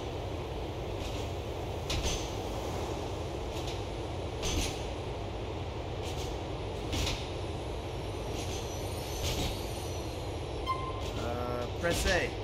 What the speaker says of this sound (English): Can I jump off of this train?